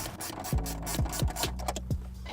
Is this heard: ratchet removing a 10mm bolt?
yes